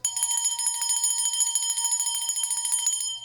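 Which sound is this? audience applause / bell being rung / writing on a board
bell being rung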